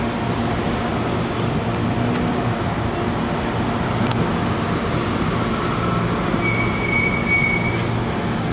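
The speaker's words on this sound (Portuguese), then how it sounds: "Chegando um trem, chegando mais um ônibus e outro saindo aqui" A train pulls into a station beside a busy bus terminal in Mogi das Cruzes in the late afternoon: a steady, loud rumble of wheels and traffic, with a thin wheel squeal rising near the end.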